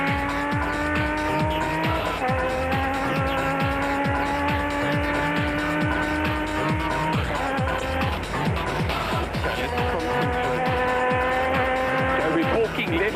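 Inside a rally car during the Carnival City 400 stage, the engine drones loud and close with rising and falling gear changes, while repeated tyre squeals and skids cut through the steady roar throughout.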